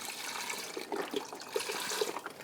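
Boxed beef broth pours into a soup pot for beef tortellini soup, a continuous glugging splash with a few bubbly gulps from the carton, close and moderately loud.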